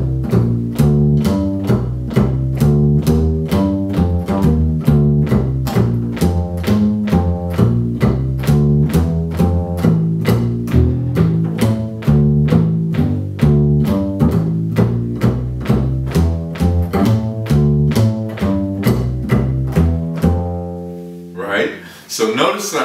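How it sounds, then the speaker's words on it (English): A deep plucked double bass walking line in F, steady evenly spaced notes moving stepwise in a blues pattern, played alone and close, ending with a soft thump. "a walking bass line is going to sound like this."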